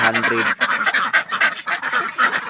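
A flock of domestic egg-laying ducks quack loudly and continuously nearby, with overlapping calls in a rapid, busy chatter.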